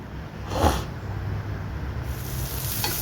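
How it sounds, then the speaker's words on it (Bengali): Onion, tomato and green chilli fry in oil in a pan, a steady moderate sizzle with a brief utensil clink near the start and no speech. "দিয়ে দেওয়ার পরে এটা বেশ খানিকক্ষণ ধরে আবার ভেজে নেব আমি"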